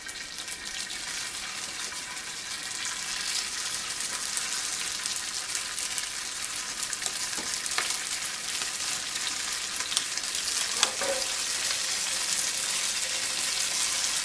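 Angel hair pasta–wrapped shrimp sizzling in a shallow layer of hot oil, a steady close crackle and hiss that runs throughout with a few sharper pops, no talking.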